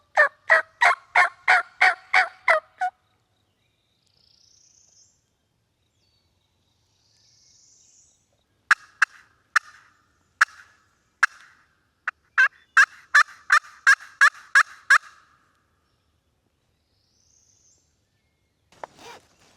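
A wild turkey gobbles on Tennessee public land in a rapid rattling burst, then after a quiet stretch come several more sharp gobbling bursts, fairly clear against a silent background.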